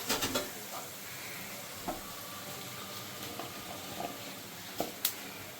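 Cumin seeds tempering in hot oil, left over from frying fish for a potato and fish curry, give a soft steady sizzle with a few brief clicks and taps, alone without talk.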